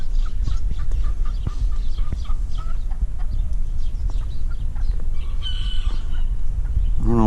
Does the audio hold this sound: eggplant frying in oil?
no